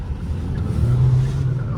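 A car rushes past on a busy highway, a brief loud low engine and tyre roar swelling close by.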